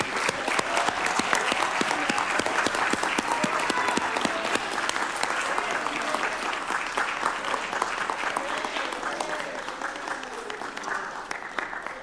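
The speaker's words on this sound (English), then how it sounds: "Can we give them a big round of applause, everybody?" Sustained applause from the audience for award recipients at a school board of education meeting, a dense roomful of clapping that holds steady and slowly tapers off.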